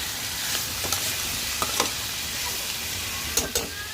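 Carrot and ivy gourd frying in a pan with chilli powder, a steady hissing sizzle with a few soft stirring knocks, no voices.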